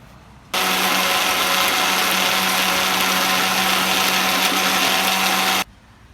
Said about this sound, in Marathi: आता याची पेस्ट काढून घ्यायची आहे